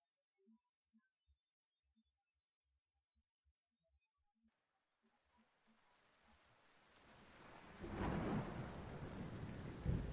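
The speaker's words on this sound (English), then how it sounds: "And it's fucking raining." Rain builds from near silence into a steady, loud downpour with rumbling thunder swelling toward the end, after a few faint, sparse ticks at the start.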